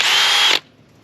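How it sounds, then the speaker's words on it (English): A power drill-style Meguiar's car polishing tool whirs at high speed for about half a second, loud and close, then cuts off abruptly. "step number one is we're going to take the drill"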